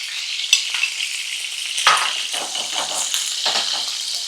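A filet steak sizzles in butter in a hot pan with a steady, loud crackling fry. Spoon clinks and scrapes come and go over it as the butter is basted.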